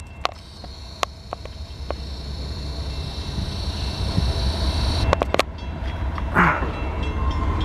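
BNSF southbound intermodal freight train led by a Norfolk Southern locomotive passing close by in Marion, Ohio, with a deep continuous rumble, sharp clanks of wheels over rail joints, and a horn-like tone in the background.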